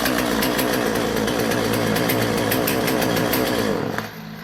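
A Jonsered 2040 Turbo Swedish chainsaw runs loud and close at high revs with a steady buzzing drone, then drops sharply back to a low idle near the end.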